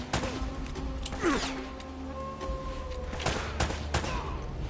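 Gunshots from Uncharted: Drake's Fortune ring out as a handful of sharp, separated cracks and impacts over a low game hum, fairly close, with swishing effects between them and no talking.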